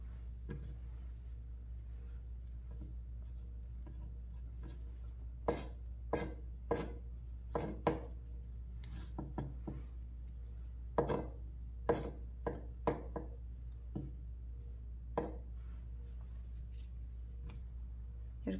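A kitchen knife julienning radish on a cutting board gives quiet, irregular taps, coming in short bursts of sharp clicks with pauses between, faint against a low background hum.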